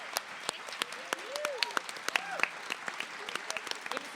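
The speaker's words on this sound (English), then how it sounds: "Please give a big round of applause to our amazing cast" Sparse applause from a fan panel audience, a few distinct claps scattered over murmuring, with voices rising and falling underneath.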